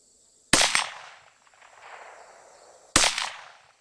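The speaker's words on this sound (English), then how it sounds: "Alright, 5 rounds, shoot some steel." Two sharp shots from a Rossi RS22M .22 Magnum rifle aimed at steel targets, spaced a couple of seconds apart, each a loud crack with a short ringing tail, outdoors at a shooting range.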